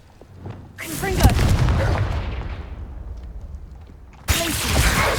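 A Confringo spell blast in the Hogwarts Legacy video game hits with a loud, booming impact that rolls off slowly, then a second burst lands right after. A voice speaks under the blasts.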